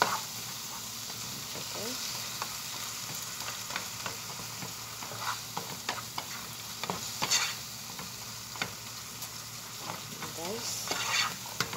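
Two fish sizzle and hiss in a frying pan while being stirred and turned, with soft utensil scrapes and clicks under a steady crackle; a voice speaks briefly.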